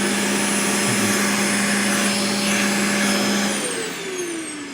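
A Hart DC1000 canister vacuum runs steadily and loudly with a sustained tonal hoot over its broadband motor whine. The pitch slides slightly near the end.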